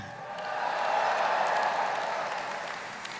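Audience applause at the AIPAC conference welcoming Mike Pence, a steady wash of clapping from a large crowd that swells and then slowly fades.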